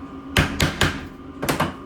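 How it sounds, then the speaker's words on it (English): A socket is tapped down over metal clips on a number plate from a 1969 Triumph Vitesse restoration, giving five sharp close knocks: three in quick succession, a pause, then two more. "Just give them a knock down"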